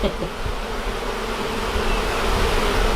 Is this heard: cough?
no